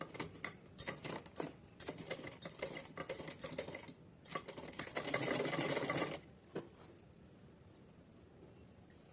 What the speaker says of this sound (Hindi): सादा सिंपल सी सिलाई लगानी है।